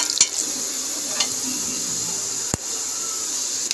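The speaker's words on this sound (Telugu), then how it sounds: "జీలకర్ర, ఎండుమిర్చి కూడా వేసి మరి కొంచెంసేపు వేగనివ్వాలి" Cumin and dried red chillies sizzling in hot oil for a Telugu beef curry, a steady hissing fry broken by a few sharp clicks of a spoon stirring against the pan.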